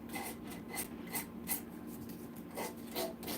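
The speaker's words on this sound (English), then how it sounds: "Can't really get it to sand very good." Soft, rhythmic rasping of sandpaper against dry sapwood on a turned wooden ornament, repeated short strokes, faint and close.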